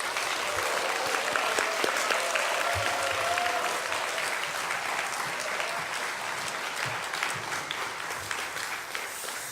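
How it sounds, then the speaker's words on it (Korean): Church congregation applauding steadily to welcome a visiting pastor to the pulpit, a dense, sustained wash of clapping throughout with a faint voice briefly audible beneath. "큰 박수로 환영해 주시기 바랍니다"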